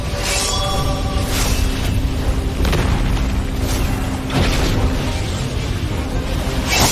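Heavy explosion effects in a Chinese animated fantasy battle series, a run of loud booms and bursts with whooshing debris, several hits in quick succession amid dramatic score.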